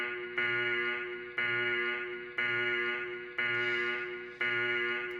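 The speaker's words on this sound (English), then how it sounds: "And of course, the alarm flash rate is customizable." A synthetic alarm tone from an Unreal Engine 5 interactive lighting system demo sounds in five evenly spaced, sustained harmonic buzzing pulses about one second apart, each fading slightly before the next, loud and alone.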